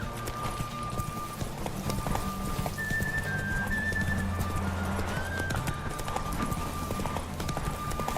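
Roach the horse gallops in The Witcher 3, a rapid, steady clip-clop of hooves with tonal game sounds and whistles layered over it.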